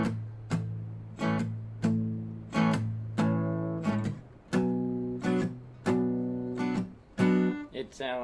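Open, unmuted acoustic guitar strums playing a song's rhythm, a steady pattern of ringing chord strikes with sharp attacks and sustained decay, loud and close with no talking.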